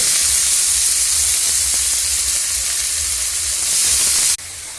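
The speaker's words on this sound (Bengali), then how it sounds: "তো কড়াতে তেল গরম হচ্ছে। এবার বিমগুলো আমরা কড়ার মধ্যে দিয়ে দেব।" Green beans frying in hot oil in a kadai (wok). A loud, steady sizzle and hiss runs continuously, then drops abruptly to a quieter sizzle near the end.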